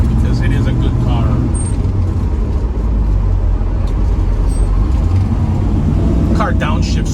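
A 1968 Chevrolet Camaro SS rumbles steadily from the inside while driving, its low engine drone constant throughout, with someone talking over it.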